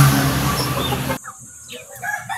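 A Golden Boy rooster crows loudly and close by, its long call cutting off abruptly, followed by softer clucking and rustling.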